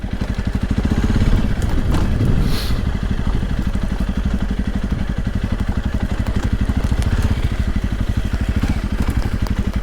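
Honda CRF300 Rally motorcycle riding a rocky lane, a loud close single-cylinder engine thumping steadily with wind rush and occasional clatter from the stony surface.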